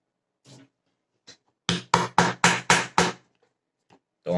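Six sharp taps in quick, even succession drive a pin into a hole in a 3D-printed tactical pen, with a few lighter knocks before and after, close and clear with no talk.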